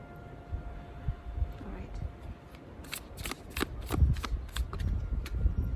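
Tarot cards are shuffled by hand in a run of crisp, quick riffling flicks that build toward the end, fairly close, with a person talking softly underneath.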